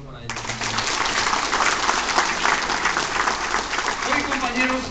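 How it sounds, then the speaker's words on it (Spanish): Convention audience of association delegates breaking into sustained loud applause, a thick continuous clatter of clapping that starts abruptly and carries on, with a voice faintly audible near the end. "un doble aplauso para ellos"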